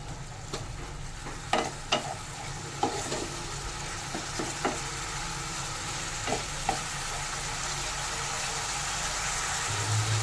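Beans, carrots, chopped green chilli, ginger and garlic paste being stir-fried in a pan for chicken white sauce pasta, with steady sizzling, a low background rumble and occasional sharp spatula scrapes and clacks.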